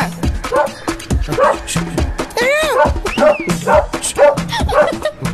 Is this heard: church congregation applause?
no